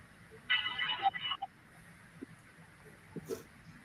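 A phone rings indoors with one short electronic ringtone burst, fairly clear above a quiet room, followed by a few faint knocks and rustles.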